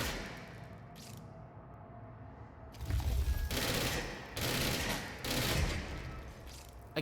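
Rapid gunfire in the video game Control during a mission in The Nail DLC, dense sustained bursts of loud shots in several waves with brief lulls between them.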